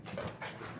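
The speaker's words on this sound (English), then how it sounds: "Hey, quit making her bark." A dog pants and gives short huffing breaths up close, a few quick bursts in under a second, with no clear full bark.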